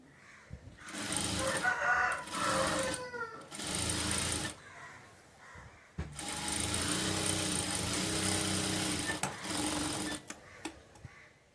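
A sewing machine stitches a folded half-inch hem on a blouse sleeve, running in several close, loud bursts of rapid mechanical whirring separated by short pauses, with a longer continuous run near the end.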